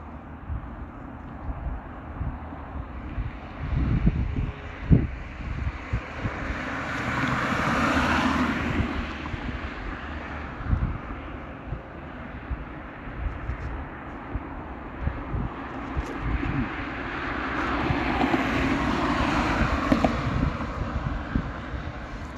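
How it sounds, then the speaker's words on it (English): Wind blowing outdoors at a holding camp, a steady broadband rush that swells in two long gusts, with scattered low thumps and knocks from the microphone throughout. "the wind is starting to pick up"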